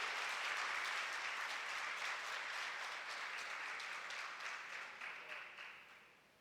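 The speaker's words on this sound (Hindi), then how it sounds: "इनके लिए एक बार जोरदार तालियां बजाकर इनका स्वागत करना चाहिए।" An audience at a Jain monk's religious discourse in Sikar, Rajasthan, breaks into loud, dense applause to welcome a guest, sustained for several seconds before tapering off at the end.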